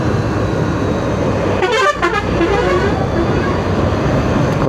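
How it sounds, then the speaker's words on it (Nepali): A vehicle horn blares sharply on a Nepali highway, a brief loud multi-toned honk rising over steady road and engine noise, heard close while riding. "कस्तो सातो जाने गरी हर्न बजाउने यार।"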